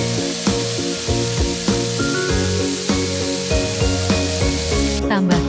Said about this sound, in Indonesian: Tumis kacang tanah, bawang putih, cabai yang sudah dihaluskan tadi.